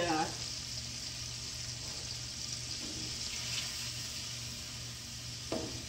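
Shrimp and ramen noodles, seasoned with pepper, fry in a pan with a steady, moderate sizzle and hiss that runs throughout, with faint clinks near the end.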